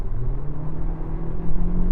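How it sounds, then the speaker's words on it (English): A Toyota Prius engine with a CVT gearbox drones at a steady, constant pitch under hard acceleration, holding constant revs in a low continuous moan with rumbling road noise. "It does this thing when you accelerate hard, it holds the revs at a constant RPM"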